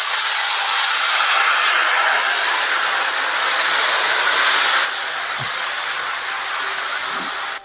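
Tamarind paste going into hot oil in a pan for South Indian pulihora (tamarind rice) gives a steady, loud hiss and sizzle that holds throughout, easing slightly partway with a few faint clinks.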